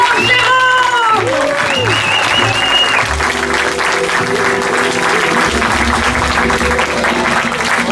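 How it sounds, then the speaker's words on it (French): Loud, sustained applause fills a Paris show, with music and a voice running underneath the clapping from start to finish. "Et on applaudit Normand Jérôme."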